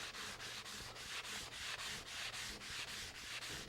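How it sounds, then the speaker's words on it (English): Sandpaper backed by a stiff sponge block scrubs across the cast iron top of a Unisaw table saw in steady back-and-forth strokes, a soft, even rhythmic rasping heard up close with no talk. "I'm using this stiff sponge block to back up the sandpaper because I want a flat surface when I'm sanding the cast iron top."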